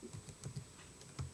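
Keystrokes on a computer keyboard while coding a Python calculator app, a handful of soft, irregular clicks over about a second and a half, close and quiet with no talking.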